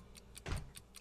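A clock ticks inside a house in the video game Hello Neighbor, played with a ModKit mod. The ticks are quiet, quick and regular, with one louder dull thump partway through.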